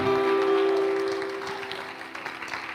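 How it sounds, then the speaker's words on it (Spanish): Church congregation clapping to welcome visitors, a steady wash of applause under a sustained tonal hum, thinning out after a couple of seconds. "Dele un fuerte aplauso"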